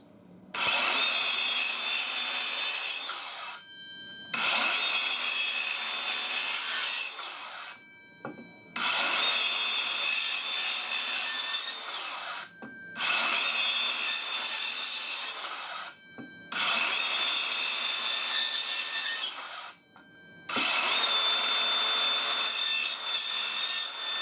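A DeWalt Atomic compact circular saw cuts through wood in six separate passes, each lasting a few seconds with brief quiet gaps between them. The cuts are loud and close, with no talking.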